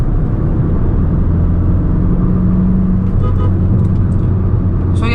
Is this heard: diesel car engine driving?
yes